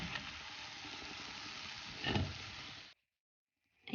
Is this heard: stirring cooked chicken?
yes